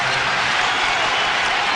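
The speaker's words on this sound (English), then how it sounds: "The crowd has been so into it all game." Basketball arena crowd at a 2005 playoff game between the Bulls and Wizards, a dense, steady roar of cheering and clapping filling the short span at close, even loudness.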